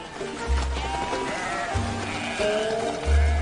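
Several loud sheep bleats, close by, spaced a second or so apart, with other bleating and a faint background murmur.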